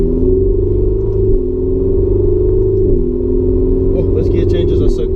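Ferrari 488 engine on a track, a loud steady droning roar heard from inside the car with brief dips at quick gear changes, rising again after each shift.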